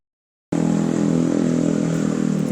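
A motorcycle engine starts abruptly after a moment of silence and then runs at a steady, loud idle with a throbbing low drone, close by and without speech.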